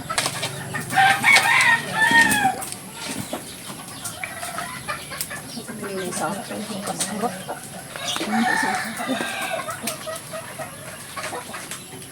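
Chickens cluck and squawk nearby in short irregular bursts, with some background chatter and rustling.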